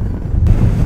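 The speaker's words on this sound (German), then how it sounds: "Also es ist sehr windig hier oben, sehr windig." Strong wind buffets the microphone high up on an observation tower, a loud, steady low roar that gusts stronger halfway through.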